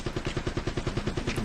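A mounted machine gun fires a rapid, evenly spaced burst of loud shots in the video game Uncharted, roughly a dozen rounds in a second and a half, with no talk over it.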